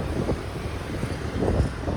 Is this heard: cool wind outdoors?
yes